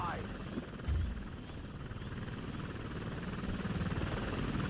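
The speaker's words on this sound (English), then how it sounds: "I'm surprised Jaeger hasn't just taken out whatever chopper they keep flying over top of us." A helicopter hovers overhead in the video game XCOM Enemy Within, giving a steady rotor drone throughout, with a voice talking over it.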